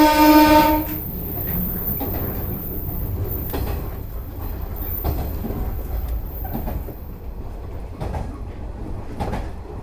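Train running along the single-track Kusatsu line in Shiga, Japan, heard from on board: a short horn blast at the start, then a steady rumble of wheels with faint, regular clicks over rail joints.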